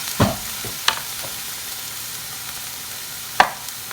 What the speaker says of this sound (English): we're gonna keep an eye on our onions, make sure they're not getting too brown, giving them a stir as needed